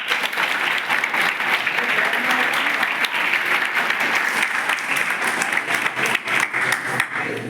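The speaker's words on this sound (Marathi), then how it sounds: "कलेक्टर साहेबांसाठी टाळ्या वाजवा" A crowd at a motivational talk gives a long burst of applause, loud, dense and sustained for several seconds, fluttering slightly toward the end.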